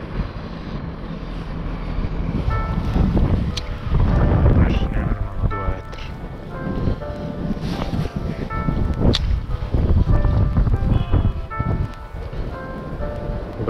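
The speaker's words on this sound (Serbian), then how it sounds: "Baš neka gadna vetrušta." Strong, gusty wind while pike fishing roars and buffets close by, swelling and easing in loud surges, with a voice heard faintly in parts.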